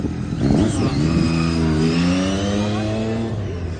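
Stunt motorbike engine revving hard during a show, loud and close, with rising and shifting engine pitch as the rider works the clutch and rear brake, sustained throughout.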